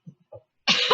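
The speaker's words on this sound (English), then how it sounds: "You can cough" A person coughs: a couple of small, soft throat sounds, then one loud, sharp, breathy cough burst close by at the end.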